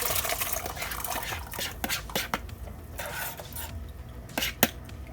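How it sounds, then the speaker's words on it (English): Pigeon peas tipped into a pot of water, with clattering clinks of peas and utensils against the pot and light splashing in irregular bursts, no talk. "My peas, this is my pigeon peas. So I'm gonna go ahead and add it to the water."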